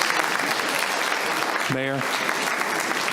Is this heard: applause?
yes